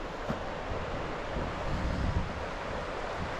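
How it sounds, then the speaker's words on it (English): A river in the Alaska wilderness near an off-grid cabin flows with a steady, broad rushing roar, continuous and unbroken, with no voices. "do you want to just go listen to the river with me for a second?"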